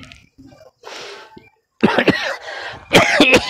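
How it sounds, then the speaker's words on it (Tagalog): A person coughs in a dry, repeated fit, a few harsh bursts spaced closely, the last ones loud and close to the listener, with some throat noise between them and no speech. "Ngayon po ganun ubo po yung hindi mawala po sa akin yung sunod-sunod."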